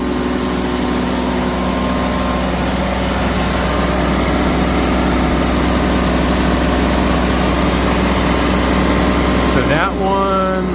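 A TimberKing sawmill cuts through a log, its motor droning loud and constant beneath the blade's steady whine, with a brief rising mechanical sweep near the end.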